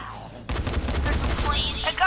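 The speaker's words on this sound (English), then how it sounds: "I'm gonna shoot through this barricade." Gunfire in the video game Dying Light as shots are fired through a barricade: a sudden burst of rapid shots kicks in and continues, fairly loud and close, with voices chatting faintly.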